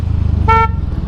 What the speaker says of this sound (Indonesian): Gue pengen tes klaksonnya.